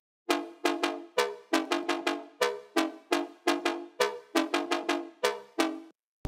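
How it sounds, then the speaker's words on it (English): Jump-up drum and bass melody played on a Serum bass synth, a run of punchy, evenly spaced synth stabs with a bright harmonic buzz that repeat in a bouncy rhythm, loud and alone. "Make a cool melody like I did with my bass,"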